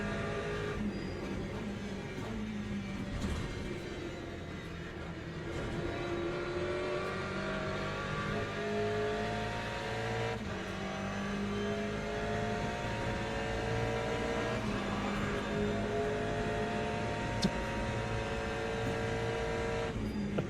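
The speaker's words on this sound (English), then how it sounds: "these hypercars coming through, putting their nose in places where you don't want them to be" Hypercars in a WEC endurance racing video game roaring past, a steady layered engine drone with rising and falling revs from several cars close by, continuous throughout without talk.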